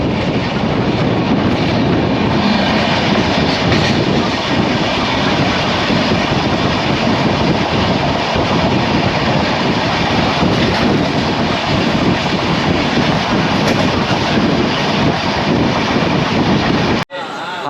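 The 12345 Saraighat Express passenger train runs on rails, a loud continuous rumble with a rhythmic clatter of wheels heard from inside the coach, steady for about seventeen seconds before cutting off abruptly.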